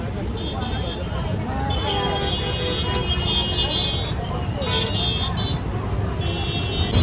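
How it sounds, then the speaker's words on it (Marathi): Dense roadside traffic jam during a crowded pilgrimage procession on the Trimbakeshwar to Pandharpur route, with steady engine rumble, bus and car noise and intermittent horn toots throughout, under people talking nearby. "किती ट्रॅफिक जाम झाली"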